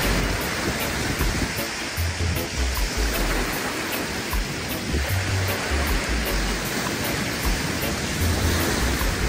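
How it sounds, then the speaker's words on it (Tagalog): Steady heavy rain pours as a dense, continuous hiss, with low rumbling gusts underneath and no voices. "Tuloy-tuloy pa rin kasi ang pag-ulan. Ngayon, umaambon pa."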